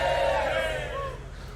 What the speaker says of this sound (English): Let's get some more cheers.